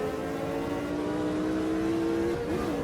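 Race car engines in the Automobilista 2 racing game drone steadily at high revs, a loud continuous multi-tone roar with a pitch shift near the end as cars lift and slow.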